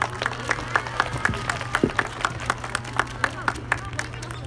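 A crowd at a ceremony commemorating a March 1st independence movement welcomes a provincial education superintendent with clapping. Fairly sparse, regular claps ring out over a low steady hum, with faint voices murmuring in the background.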